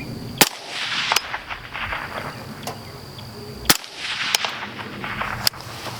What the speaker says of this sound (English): So we'll run 3 shots with the fully closed end cap,